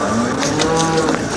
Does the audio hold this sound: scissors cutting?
no